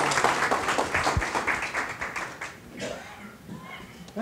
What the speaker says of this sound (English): a nice hand of applause for Chancellor Rodriguez